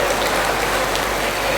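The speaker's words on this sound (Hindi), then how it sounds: "एक बार अपने लिए भी आप ज़ोरदार तालियां बजा दीजिए।" Loud, dense applause from a large crowd at an Urdu mushaira poetry gathering in Meerut, a continuous roar of many hands clapping with no pause.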